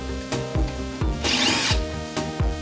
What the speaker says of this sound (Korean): 커버를 받치고 있는 이 볼트 두 개를 풉니다